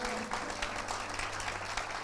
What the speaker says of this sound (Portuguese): uma salva de palmas à pastora de vocês